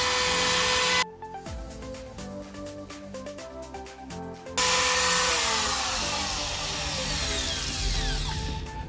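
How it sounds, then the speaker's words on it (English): A power tool sands a freshly cut piece during a tow hitch install on a 2018/2019 Honda Odyssey, a loud steady whine that cuts out briefly and drops to a rougher grinding passage before resuming at full volume, close up, with no talking. "So now we cut it, we're going to sand it now."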